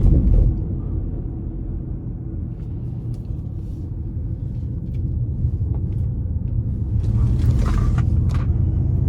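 A 2021 Ford Mustang Mach-E in CR1 drive mode gives off a deep, steady synthetic rumble as it accelerates, swelling slightly louder toward the end, with faint clicks over it.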